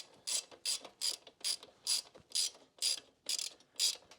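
A 1/4 inch drive ratchet tightening the front pulley bolt on a Sportster motorcycle, about nine crisp clicking bursts in an even back-and-forth rhythm, close and fairly quiet with no voices.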